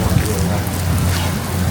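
Steady rain falls and splashes on surfaces outside a store at Walt Disney World, a loud, dense and continuous hiss close by.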